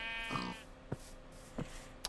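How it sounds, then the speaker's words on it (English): A sheep in Minecraft Skyfactory 3 gives a short, odd bleating call near the start, followed by a few faint clicks and thumps in an otherwise quiet scene. "The sheep make a weird noise."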